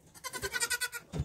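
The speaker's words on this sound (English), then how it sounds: "So, silly pile of goats." A pile of goats bleats nearby, a close, loud, rapidly pulsing quavering call of about eight beats, then a short lower bleat at the end, with no talking.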